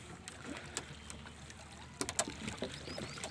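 A boat being hauled across a river at Sadipur, with faint water movement and scattered knocks and creaks from the hull, rising into a few sharper clunks near the end; no talk.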